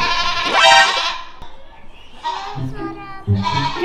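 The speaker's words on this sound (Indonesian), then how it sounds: "Suara kambing itu." A goat bleats loudly once, a wavering cry, followed by a couple of shorter bleats amid scattered background noise.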